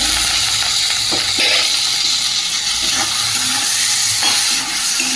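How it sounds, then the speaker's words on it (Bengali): Chopped capsicum fries with spices in a pan, giving a loud, continuous close-up sizzle with occasional stirring scrapes. "ভালো করে মশলার সঙ্গে ভেজে নেব"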